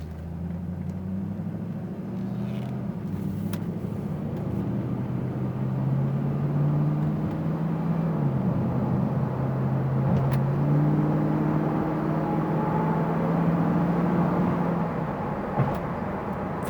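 A white 1999 Pontiac Trans Am 30th Anniversary edition accelerates to about 45–50 mph, its engine a steady, loud, droning rumble that rises and shifts pitch through the gears, heard from inside the car with no talk.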